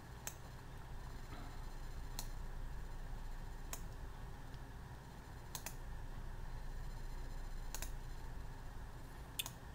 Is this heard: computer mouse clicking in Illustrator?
yes